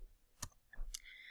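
A computer mouse clicks on a link, two sharp close clicks spaced about half a second apart in a quiet room, followed by faint electronic tones.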